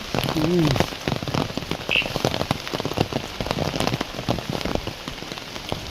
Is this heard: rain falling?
yes